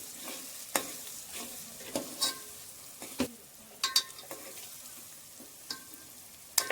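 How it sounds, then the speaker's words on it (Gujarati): Onions and tomatoes frying in a pan with turmeric and spices, a low soft sizzle punctuated by scattered scraping clinks of a spoon stirring against the pan, close and quiet. "ડુંગળી ટમેટા બધું પાકી ગયું છે હવે હળદર ને એવું બધું વઘાણી ને એવું બધું નાખી દઈએ"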